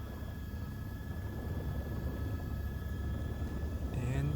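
Helicopter landing on a glacier in New Zealand's South Island, a steady loud rotor and engine rumble running throughout and rising slightly near the end, with no talking.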